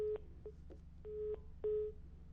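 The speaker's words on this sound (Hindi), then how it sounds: "फोन डिस्कनेक्ट हो गया है" A phone line cuts off during a live call to a news broadcast, leaving a series of short electronic tones of uneven length, some clipped and some longer, followed by a sustained beep, with no speech.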